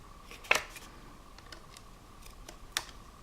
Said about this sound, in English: Not the best scissors, these.